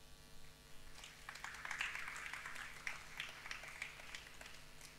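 A conference audience gives scattered applause during a French talk on ecological transformation of companies, a light, uneven patter of claps over a steady room hum, moderately faint and fairly distant.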